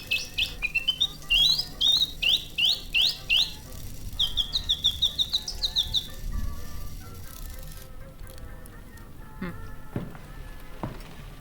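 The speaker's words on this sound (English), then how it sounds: "Hello, little bird." Bird squawking in a video game: a rapid series of sharp rising chirps in quick bursts, then a pause and a second run of chirps, followed by scattered faint clicks and thuds over a low ambient hum.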